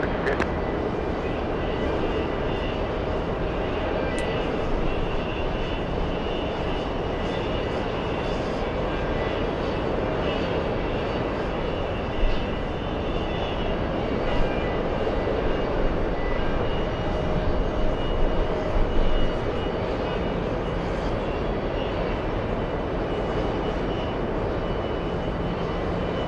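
An airliner takes off from runway 22 right at JFK, a steady broadband engine roar holding for the whole stretch with slight swells, heard from a distance with faint radio chatter beneath.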